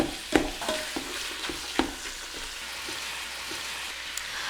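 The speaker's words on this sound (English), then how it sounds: "All right, that's really sizzling in there, so let's mix this up." Sausage and garlic sizzle steadily in a hot pan, with a few sharp scrapes and clacks as a utensil stirs them.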